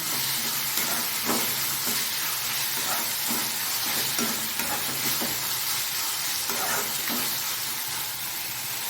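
Finely chopped medium tomatoes sautéing in a pan for mushroom gravy, a constant hissing sizzle close by, broken by repeated soft stirring scrapes.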